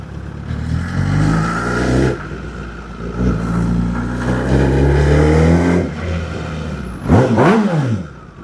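A Kawasaki ZX-10R motorcycle with a slip-on exhaust revs loudly and close, its engine note climbing and falling in repeated throttle blips, ending in a sharp rising rev.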